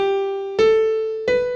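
A piano plays notes of a major scale starting on F: a sustained tone, then two struck notes in steady succession, each ringing clearly and close with no talk.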